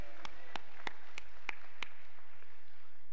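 Six sharp, evenly spaced claps ring out in a slow, steady rhythm at a Korean prayer-meeting revival service, crisp and fairly close, followed by quiet.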